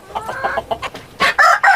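Desi village chickens, including Sonali hens, cluck in quick, close bursts, followed by louder, strained rooster-like calls at the end.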